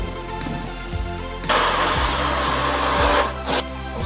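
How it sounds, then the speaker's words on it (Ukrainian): A motor hums under music, then a loud blender pureeing corn cooked with cream roars in close for a couple of seconds, dips briefly and surges again. "Готову кукурузу пробиваємо блендером."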